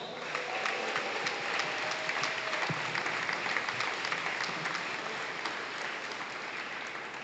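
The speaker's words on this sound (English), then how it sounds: "Would you please give a round of applause for Bentonville High School Athletic Hall of Honor" Audience applause fills a high school athletic hall of honor ceremony as an inductee is introduced, a steady sustained wash of clapping from a large crowd throughout, with no voices over it.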